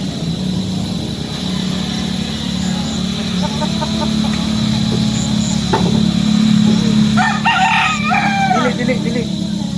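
Chickens cluck and a rooster crows nearby, with a steady engine drone and occasional voices in the background; a white grizzle pigeon is among the birds.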